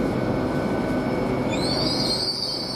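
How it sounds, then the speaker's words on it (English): A Class 800 train pulling out of Oxford station on a service to Hereford, a steady loud rumble of wheels on rails with a high metallic squeal rising partway through, no voices. "Now we get the 12:44 with 2 minutes late from London Pound to Hereford. It's now leaving."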